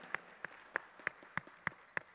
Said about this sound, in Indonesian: Bapak dan Ibu untuk bisa tepuk tangan kepada kedua pemateri kita hari ini.